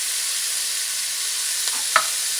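Beef shanks fry in extra virgin olive oil, producing a constant, even sizzling hiss with a couple of brief clicks near the end.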